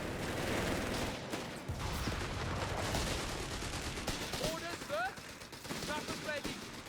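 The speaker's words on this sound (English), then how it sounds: "That is the Hawker strafing run from those commandos" Rapid strafing gunfire from a Hawker aircraft run in the World War II strategy game Company of Heroes 3, a dense continuous barrage of shots and explosions with brief whistling tones near the end.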